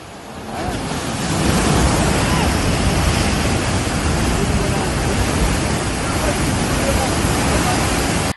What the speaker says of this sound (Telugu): కాళేశ్వరం నీళ్లు షిమ్మిచ్చి వస్తున్నాయి. ఎగిరెగిరి వాడుతున్నాయి.